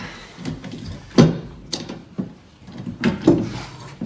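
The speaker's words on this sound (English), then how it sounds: "So now we got it loaded up in the crimper." A hand crimping tool squeezes a lug onto a heavy cable for an SPL car audio van build, producing a run of close mechanical clicks and ratcheting creaks in uneven squeezes.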